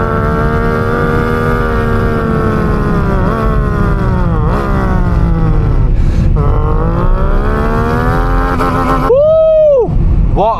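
A VW Up 1.0 playing a synthetic V8 sound accelerates loudly through the gears. The engine note repeatedly climbs and drops at each shift, then ends in a fast, sharp rev.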